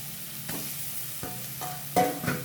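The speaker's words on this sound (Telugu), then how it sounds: "ఇప్పుడు అదే నేతిలో క్యారెట్ వేసేసుకోవాలి" Carrots frying in ghee in a pan, a steady soft sizzle with a few stirring scrapes and bumps, fairly close and alone without talk.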